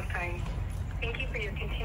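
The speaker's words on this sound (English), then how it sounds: "Of course, you can hear my phone." A phone on hold plays a tinny, steady hold sound through its small speaker close by, with a filtered, voice-like quality throughout.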